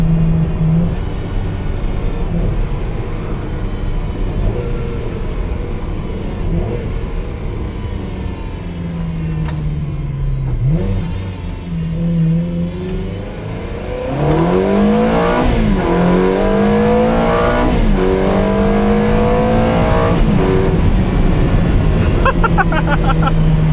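A flood-salvaged Ferrari 360 with a freshly changed gearbox oil drives and accelerates, its engine droning steadily before rising through loud, climbing revs with pitch sweeps as it pulls away, close and sustained throughout.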